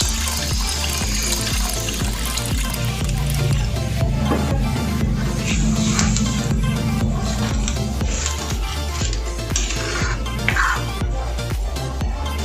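Water runs steadily into a cooking pot for chicken pochero, a continuous splashing pour that stays close and fairly loud throughout, with no talking over it.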